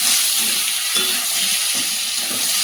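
Chopped ridge gourd and potato hitting hot oil seasoned with whole cumin, giving a steady close sizzle and frying hiss with soft stirring bumps, no voices.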